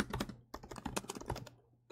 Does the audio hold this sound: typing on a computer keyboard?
yes